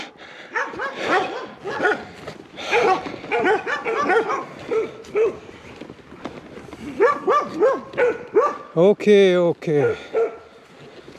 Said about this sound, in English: There are wild dogs.